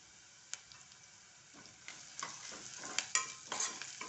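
Masala of chili, peanuts and cumin powder sautéing in a pan for a spicy Goan snack, with soft sizzling and repeated scraping stirs that grow busier toward the end, close and fairly quiet.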